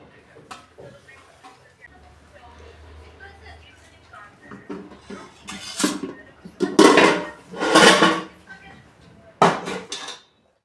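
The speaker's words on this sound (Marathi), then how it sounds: "आता हे पण सगळे भांडे मी हॉलच्या बाल्कनीमध्ये सुकायला ठेवते" Washed steel pots, German aluminium vessels and dishes being set out to dry on a balcony: scattered metallic clanks and clatters that grow louder and denser near the end, close by, with someone talking in between.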